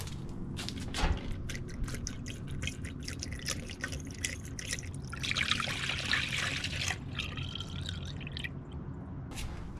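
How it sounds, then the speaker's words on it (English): Coolant poured into a car after a heater core repair, trickling and dripping irregularly, swelling briefly into a stronger splashing flow midway, heard close by with no talk. "First thing I'm gonna do is put the coolant in."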